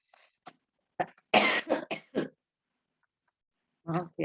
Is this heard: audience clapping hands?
no